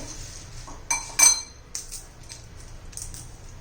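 Spoon working through papad chutney in a bowl, a few sharp metallic clinks against the bowl amid quieter scraping, close and isolated.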